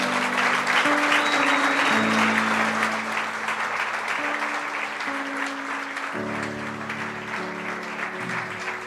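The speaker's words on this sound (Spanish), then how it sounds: "Dale un aplauso al Rey de Reyes" Church congregation applauding after a closing prayer at a pastor's sermon, a broad steady wash of many hands clapping for nearly nine seconds, with sustained music tones playing underneath.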